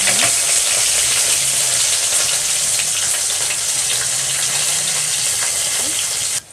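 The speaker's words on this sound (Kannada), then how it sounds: "ಇದು ಫ್ರೈ ಆಗ್ತೈತಲ್ವ, ಆನಿಯನ್, ಈರುಳ್ಳಿ ಮತ್ತು ಕರಿಬೇವು." Chopped onion and curry leaves fry in a pan for mushroom gravy, giving a steady close sizzle that runs unbroken throughout.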